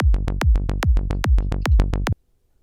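Psytrance triplet bassline from an Ableton synth: a fast, even run of about twelve punchy, plucky bass notes in a steady rolling pattern, loud and dry, stopping abruptly before a short silence.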